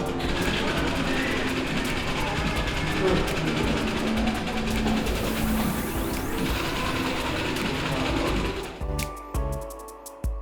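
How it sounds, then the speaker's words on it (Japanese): A split-flap departure board at a Kagoshima airport flips through its display, a busy continuous clatter of rapid tiny flaps and mechanical ticking over roughly nine seconds, then thinning into scattered clicks before stopping, with faint hall ambience. "反転フラップ式案内表示器が決まった時間にパタパタ回ります。"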